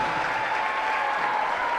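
A crowd applauds at a Special Olympics basketball game, a dense, continuous wash of clapping filling an indoor gym, loud and steady throughout.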